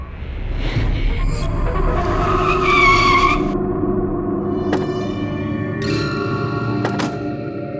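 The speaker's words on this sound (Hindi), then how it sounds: "ड्राइवर उनके पास गाड़ी रोको।" A car brakes hard on a road in a TV crime drama, its tires squealing loudly and continuously for several seconds over the engine as it slows to a stop.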